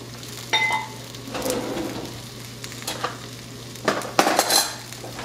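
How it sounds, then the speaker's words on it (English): Salsa and meat sizzle in a hot stone molcajete, a soft continuous frying hiss broken by a few scraping spoon stirs and clinks. "you can already hear the sizzle."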